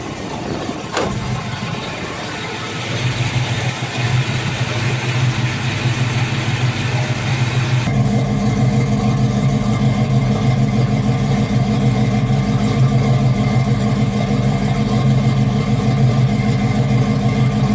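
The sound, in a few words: Buick 350 V8 engine idling and revving, Black Widow mufflers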